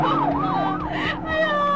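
A police siren wails in a fast rising-and-falling yelp, loud and fairly near, sounding continuously throughout with a steady vehicle rumble beneath and no talk.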